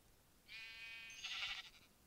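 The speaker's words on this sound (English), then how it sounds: "How did so many sheep spawn all of a sudden?" A single sheep in Minecraft Pocket Edition bleats twice in quick succession, a wavering nasal cry, fairly clear against a quiet background.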